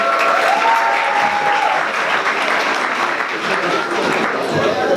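Loud, close applause from a studio audience greeting an infectious disease doctor on a coronavirus panel show, a thick continuous burst of clapping with murmurs and faint voices mixed in.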